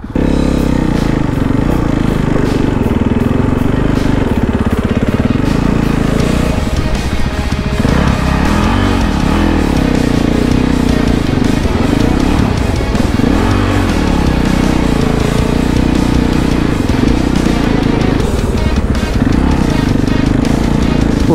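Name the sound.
dirt bike-based Timbersled snowmobiles riding in snow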